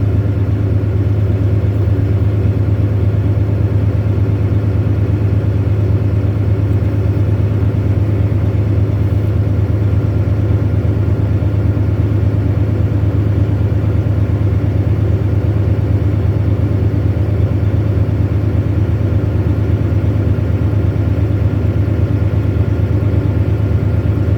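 A tractor-trailer truck engine idles in the cab while its air compressor builds brake pressure to 125 psi, a loud, steady low rumble with a constant drone that continues unbroken for the whole stretch.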